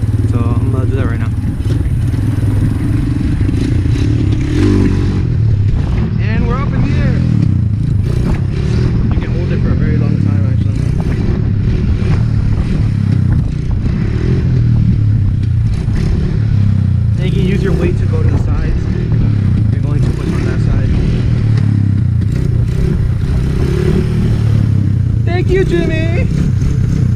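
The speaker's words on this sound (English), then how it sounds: "pull the clutch back, rev it, and then just pull up" ATV engine revving hard in first gear for a clutch wheelie, a loud close rasping roar that rises and falls in repeated bursts with clattering drivetrain noise.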